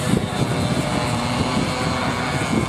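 Junior Ka3 and Ka4 heavy and light class racing go-karts in qualifying at a kart track drive past, their engines making a loud, continuous buzzing drone that swells as they pass close by.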